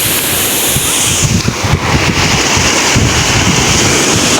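Steady roar of moderate surf breaking on a shore, loud and continuous with gusty wind noise over it.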